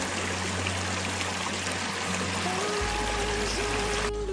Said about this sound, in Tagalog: the healing sound of the river flowing gently